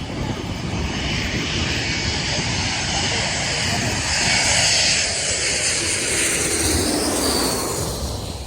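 A JetBlue jet airliner comes in to land over Maho Beach on St. Maarten, its engines a loud, broad roar that swells to a peak midway and then eases off.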